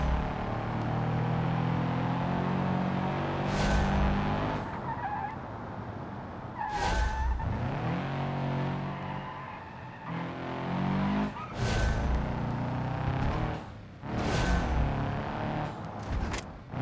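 Front wheels of a car slipping and skidding in the BeamNG driving game, with a loud engine roar broken by several short tire squeals and skids at irregular intervals.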